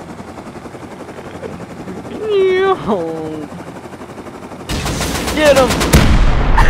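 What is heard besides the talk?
helicopter strafing with gunfire in a video game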